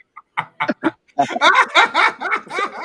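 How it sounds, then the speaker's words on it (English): A dog barks close by, first a few short separate yips, then a fast run of louder, rougher barks that continues steadily to the end. "That's my dog."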